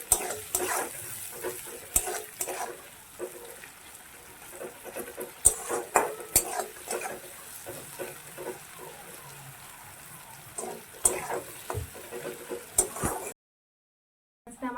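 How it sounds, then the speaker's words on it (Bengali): Sugar browns in a hot pan while cooking a spicy tilapia fish dish, giving a steady crackling sizzle scattered with sharp pops and spits, close up, until it cuts out near the end. "আমি একদম খুবই সামান্য একদম দুদানা মতো চিনি দিচ্ছি ভালো করে লাল লাল করে ভাজবো"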